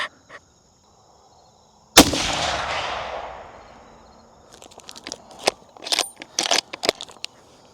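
A single loud rifle shot cracks while a deer rifle is sighted in outdoors, its report echoing and decaying over a couple of seconds, followed by clinks and shuffling handling noises.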